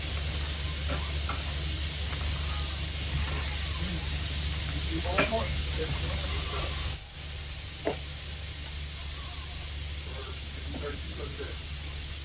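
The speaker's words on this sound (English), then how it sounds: "Oh, you want to deep fry now?" Fish deep-fries in hot oil with a loud, unbroken hiss and sizzle close by. The noise dips briefly partway through, with faint clinks of cooking utensils.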